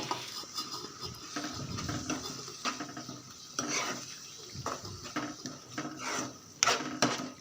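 Chicken liver pieces are stirred in a pan, close scraping and clinking of a spoon against metal with soft sizzling underneath, irregular and fairly quiet.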